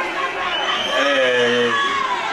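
An ice hockey crowd at an Alleghe versus Cortina match roars steadily as a player leaves the ice, with cheering, shouts and thin whistle-like tones rising out of a dense, continuous wash of noise.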